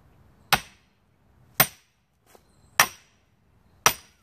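A sledgehammer strikes the back of an axe driven into firewood four times at roughly one-second intervals, each a sharp, close metallic crack with a short ring, plus one faint tap in between.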